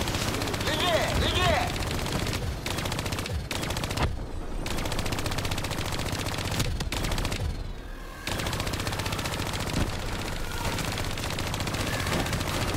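Sustained rapid machine-gun fire from an automatic weapon in Call of Duty: Black Ops 3, loud and continuous with brief gaps, in a game mix of explosions and effects.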